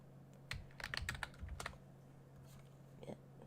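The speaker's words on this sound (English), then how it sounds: "Typing, not ignoring everyone" Bursts of quick, light key clicks on a computer keyboard, close and fairly quiet, with short gaps between flurries over a steady low hum at an off-grid cabin.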